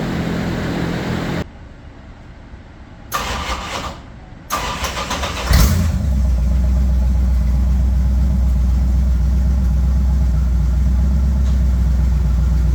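A Bombardier engine, freshly topped up with transmission fluid, sputters through a few broken bursts, then settles into a loud, steady, rumbling run that carries on without a break.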